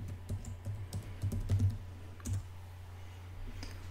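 A password typed on a computer keyboard during a Linux terminal session, a quick irregular run of soft close key clicks, a few heavier taps, then quiet.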